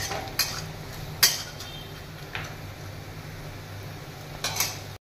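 Poppy seeds being stirred into thin-sliced fried potatoes in a pan, with a few sharp utensil scrapes and knocks against the metal over a faint steady sizzle; no talking.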